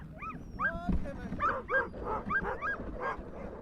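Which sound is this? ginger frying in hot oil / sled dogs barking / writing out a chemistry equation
sled dogs barking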